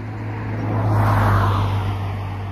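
A car passing on a road near a mountain trail, rising and fading as it goes by, with a steady low hum throughout and no talk.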